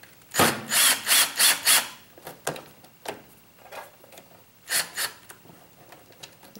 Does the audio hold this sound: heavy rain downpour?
no